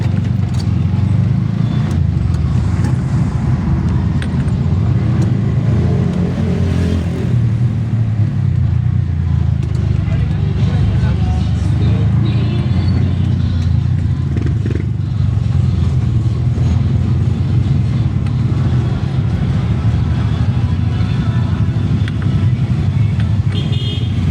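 Highway traffic on the road toward a crossing: a dense, constant roar of cars and motorcycles passing close by, with engine drone, occasional horn toots and clatter throughout.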